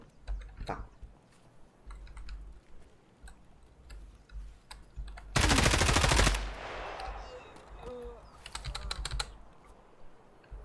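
An M4 rifle fires in Escape from Tarkov: one loud, dense automatic burst lasting about a second, set against rapid keyboard and mouse clicking and scattered faint game noises.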